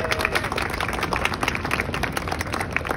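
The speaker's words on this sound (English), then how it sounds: "let's give him a round of applause" An audience claps for a graduating student at a school flag raising ceremony, with dense, steady applause holding close and loud for the full stretch and no voices over it.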